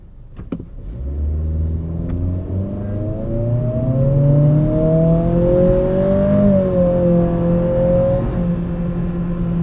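A 2025 Acura ADX A-Spec Advance engine revs hard at full throttle, a loud, steady climbing drone with rising harmonics that swells over several seconds from inside the cabin, with no talking.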